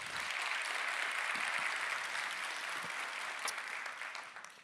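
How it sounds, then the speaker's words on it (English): A conference crowd claps steadily, a dense wash of many hands with a few sharper individual claps, fading slightly toward the end. "If you trust Uber the most, clap now."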